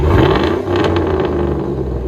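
A 2007 Chevy Avalanche LTZ's 5.3L V8 exhaust with the muffler deleted rumbles loud and deep close by, throaty and steady, with slight surges as the revs rise.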